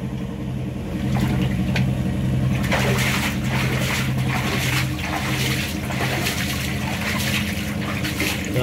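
Water sprays and splashes steadily while a worker cleans a manhole drain in a sidewalk, with a constant low rush and repeated bursts of spattering over a running motor hum.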